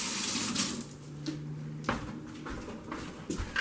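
Running water from a kitchen tap as salad ingredients for a steak Caesar salad are rinsed, a steady close splashing stream with a few brief clatters and bumps.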